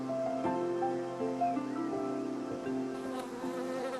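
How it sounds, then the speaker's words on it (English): Bees forage among garden flowers, giving a steady, close insect buzz that runs for the whole stretch alongside sustained tonal hums that shift in pitch. "bees foraging for food in our gardens pollinate our flowers and trees"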